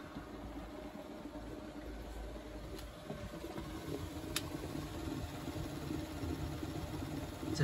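A Bosch WFP3300 washing machine motor runs quietly in a cellar as a low, steady hum with faint mechanical rattle and a couple of brief ticks, with no talk.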